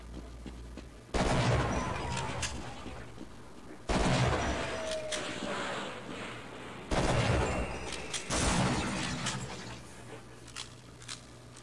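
Heavy gunfire in the video game Half-Life on maximum difficulty: four loud, booming blasts about three seconds apart, each trailing off into a rumbling decay with clatter between.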